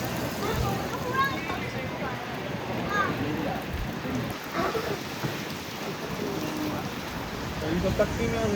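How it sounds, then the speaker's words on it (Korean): Steady outdoor rain falling in New York, a sudden shower with a dense, continuous hiss of drops hitting surfaces, fairly loud and unbroken throughout. "진짜 소나기다."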